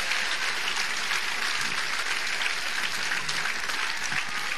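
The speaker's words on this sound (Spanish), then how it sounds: "¿Alguien le puede dar un aplauso al Señor en esta noche?" Applause from a church congregation during an evening service, a continuous, even wash of many hands clapping at moderate distance, with no voices standing out.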